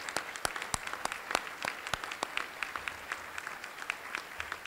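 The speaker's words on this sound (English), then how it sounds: "student athletes, a big round of applause." Applause at a university athletic hall of fame ceremony, with scattered sharp claps standing out over a thinner wash of clapping from the audience, moderately distant and steady.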